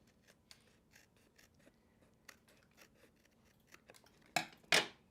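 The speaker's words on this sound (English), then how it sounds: "I'm gonna get my big scissors here to cut off this side" Large scissors snip through card paper in a steady series of quick, crisp close-up cuts, ending with two louder, longer slicing strokes, with no talking.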